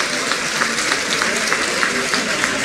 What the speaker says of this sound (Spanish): Un aplauso para Jorge Oñate bien grande.